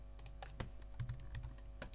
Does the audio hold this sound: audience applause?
no